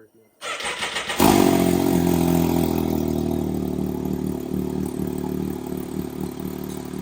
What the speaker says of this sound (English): exhaust on. We can't wait, so we're gonna fire it up and see what she sounds like.